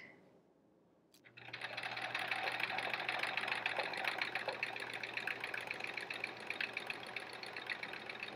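A sewing machine runs steadily while stitching in the ditch on a quilt-as-you-go block, starting after a brief quiet moment and then humming with a continuous rapid stitching rattle, close and alone.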